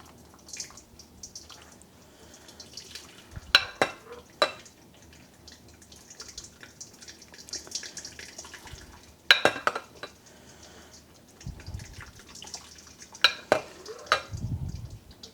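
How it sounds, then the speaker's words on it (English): Homemade rhubarb lemonade strained through a sieve, quiet trickling and dripping punctuated by a few sharp clinks of metal against the sieve and bowl, with soft handling noises between. "strain it through this sieve"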